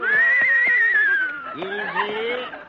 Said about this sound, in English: Look, Mr. Kitzel, is this your horse?